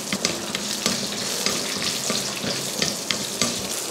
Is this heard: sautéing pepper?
yes